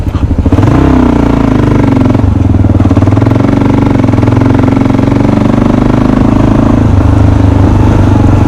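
A Kawasaki KLR 650 motorcycle riding on back roads: a loud, close, steady single-cylinder engine drone with a clattery throb that holds throughout, with brief shifts in pitch.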